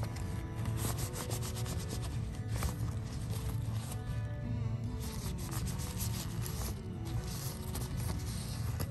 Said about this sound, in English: giving it a nice little scrub, and then I'm gonna wipe it clean.